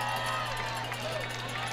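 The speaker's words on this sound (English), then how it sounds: "Jalen Ray has some noise now from the Eureka crowd on this fourth and five." Eureka high school football crowd on a fourth-and-five play in a game against Rockford, a steady wall of noise from the stands under a commentator's voice.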